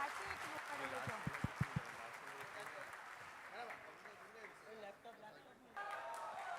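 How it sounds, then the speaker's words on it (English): Faint applause from an audience at a day-two event session, a soft clapping bed with a few sharper claps early on, mostly masked by voices and chatter. "Give a big round of applause for him."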